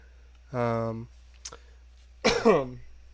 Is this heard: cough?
yes